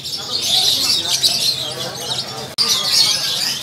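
A Javan pied starling calls inside a bird shop with a dense stream of bright, high chirps and whistles. The calling runs almost continuously with a brief break near the end, close and loud.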